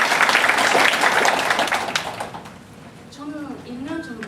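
A seated audience at a Korean-language presentation event claps for about two seconds, a dense burst that fades out before a voice begins speaking.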